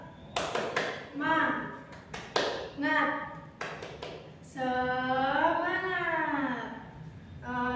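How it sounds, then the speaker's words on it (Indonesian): A first-grade class performs a rhythmic tepuk semangat chant, with quick bursts of hand claps between sung syllables and a long, drawn-out chanted word at the end, voices and claps close and clear. "Sekarang kita bersama-sama melakukan tepuk semangat ya."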